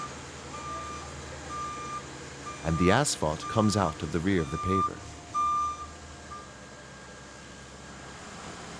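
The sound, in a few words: dump truck reversing beeps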